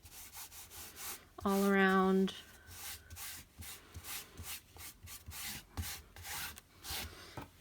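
Hands rubbing and smoothing glued paper over a junk journal spine ledge, a run of soft close brushing strokes with a brief loud tonal squeak partway through, while someone speaks briefly.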